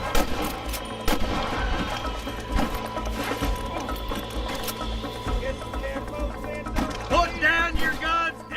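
Gunfire in the video game Red Dead Redemption, a busy battle with scattered shots, booms and volleys over a dense background, while voices shout and talk.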